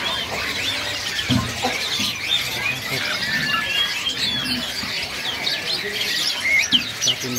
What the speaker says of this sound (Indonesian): Jalak putihnya teman-teman. Cakep ya.